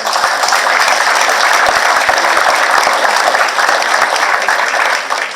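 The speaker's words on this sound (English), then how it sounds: "Give these guys a round of applause." A banquet audience at a baseball first-pitch dinner claps loudly for the college team, a thick, sustained wash of many hands that runs steadily and eases slightly toward the end.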